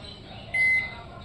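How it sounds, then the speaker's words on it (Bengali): A 1400-watt microwave oven running on high power gives a steady low hum, and a brief brighter tone rises partway through. The sound is quiet and continuous, with no voice over it. "এটা আমি দু মিনিট মাইক্রোওয়েভ করে নেবো আমার চোদ্দোশো ওয়াট তাই আমি দু মিনিট দিচ্ছি"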